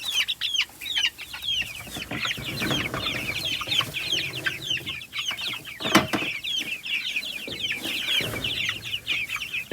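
Many chickens cluck and chatter continuously close by, with overlapping calls forming a busy, steady flock sound.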